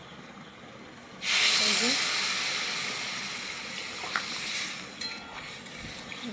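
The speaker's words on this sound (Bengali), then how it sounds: "এবার আমি জল দিয়ে দেবো।" Water hits a hot pan of cauliflower and potato curry with a sudden loud hiss that swells and then slowly fades into a steady simmering sizzle, with a short spoken remark before it.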